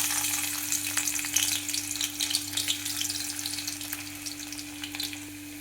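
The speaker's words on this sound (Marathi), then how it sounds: "तर आता आपण लसूण टाकून घेणार आहे तळण्यासाठी" Garlic frying in oil in a kadhai for sambar makes a dense, even sizzle up close with fine crackles. A constant low electrical hum runs underneath, and nobody speaks.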